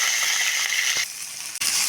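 Green chillies, ginger, curry leaves and onions sizzling in tempering oil, a bright steady hiss lasting a couple of seconds, with a brief clack near the end.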